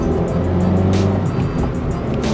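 A Mazda 2 on the road after a short throw shifter install: steady engine drone with tire and road noise, a brief whoosh near the middle, no talking.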